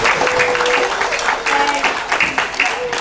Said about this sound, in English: give yourselves a big round of applause, my friends